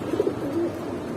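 A pigeon gives a brief, low coo nearby, a couple of soft throaty notes over steady background noise.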